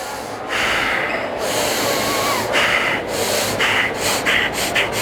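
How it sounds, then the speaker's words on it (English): A group breathes hard in and out through their noses with hands over their mouths during a keynote session at an early childhood education conference. Several loud, snorting nasal breaths come in uneven bursts over a roomy background hum. "You're gonna breathe in and breathe out only with your nose and let your stomach take over the breathing."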